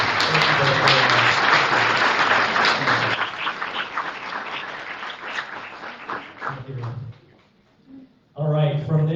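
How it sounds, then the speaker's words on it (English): A round of applause at a candidate forum, a loud burst of crowd clapping that tapers off with voices speaking over it, then a brief pause before talking resumes. "now you can give a round of applause"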